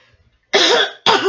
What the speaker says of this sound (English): I had to cough that out.